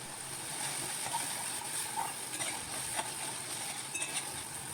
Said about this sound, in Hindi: अब इसे हल्का हल्का इसी तरह से फ्राई करते रहेंगे, क्योंकि लहसुन को भूनना ज़रूरी है